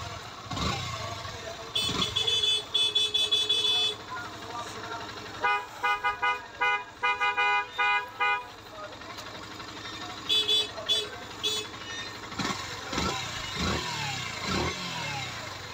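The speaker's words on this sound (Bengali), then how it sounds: "তো এইতে বাইকটির সাউন্ড শুনলেন," A Yamaha FZS version 2.0 motorcycle engine runs after a service, with a steady idle broken by repeated horn toots in short rhythmic bursts and some revving, close by, with a voice speaking at times.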